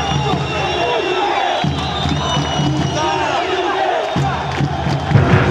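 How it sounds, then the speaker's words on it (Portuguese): Guarani football supporters shouting in protest in a stadium, a loud massed crowd chanting and yelling in repeated surges, dense and continuous. "A torcida gritou demais"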